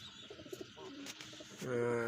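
A Hyderabadi blue male pigeon coos in short, low rolling bursts close by, ending in a louder sustained coo.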